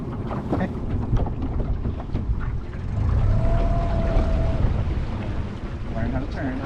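A small dinghy on water with its outboard engine, a low, rumbling drone that swells midway and stays close, with splashing and a thin tonal whine, while people talk over it.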